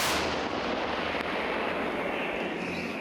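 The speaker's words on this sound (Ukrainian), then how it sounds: "Американська 155-мм гармата М114 43-го року випуску." One heavy shot from an American 1943 M114 155mm howitzer booms at the very start, then a long rolling rumble fades away slowly.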